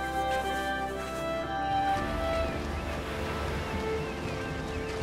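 Ocean waves in a video game make a steady broad wash of surf over a sustained tonal hum, with no distinct breaks.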